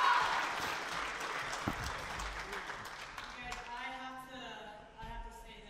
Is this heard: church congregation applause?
yes